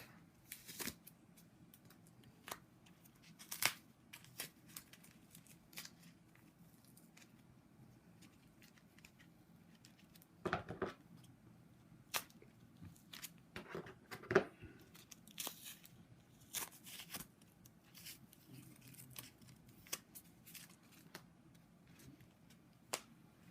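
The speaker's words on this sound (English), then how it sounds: "And take the tape off." Tape peeled in short crinkly tearing bursts and small rustles, faint and close, scattered irregularly over a quiet background while wrapping comes off a bunny.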